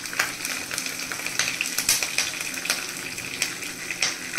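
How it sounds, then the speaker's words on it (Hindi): Chillies fry with popped mustard seeds in a pan, giving a steady close sizzle with crackling bursts and occasional stirring scrapes, no voices. "मिर्ची थोड़ी सी फ्राई हो जाए"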